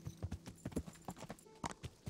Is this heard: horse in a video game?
yes